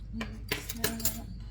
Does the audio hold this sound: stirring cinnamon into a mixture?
yes